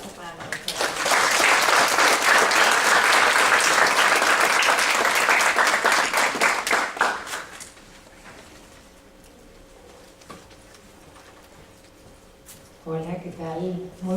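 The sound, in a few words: applause for the speaker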